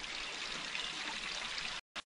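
Water spilling from artificial concrete rocks into a small creek makes a steady, close splashing rush for nearly two seconds, then cuts out abruptly, followed by one brief burst.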